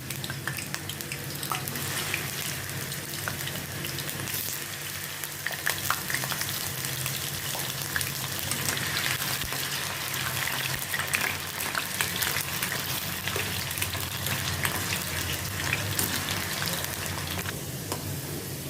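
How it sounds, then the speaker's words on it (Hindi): Potato pieces fry in oil in a kadhai for dhaba-style aloo matar, a loud, dense, continuous crackling sizzle that holds steady throughout with no voices. "अभी ये आलूओं को मैं कढ़ाई में डाल के थोड़ा मैं फ्राई कर लेती हूँ।"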